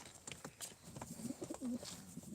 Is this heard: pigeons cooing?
yes